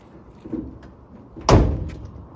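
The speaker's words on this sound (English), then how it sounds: "Doors closed nice and tight." A single solid thunk as the door of a 1971 Ford F-100 pickup truck swings shut at 1.5 seconds, preceded by quiet rustling and handling sounds.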